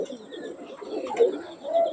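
Teddy pigeons coo softly and steadily nearby, with a couple of louder rising calls near the end and a faint high hum behind them, no voices.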